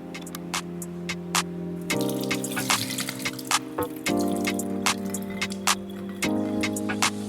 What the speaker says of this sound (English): Okay, so now we're going to wash our cornmeal, okay?